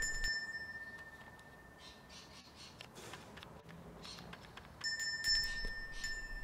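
A small hand bell is rung while training wild Australian magpies outdoors, giving a faint ringing at the start and again near the end over quiet rustling background noise.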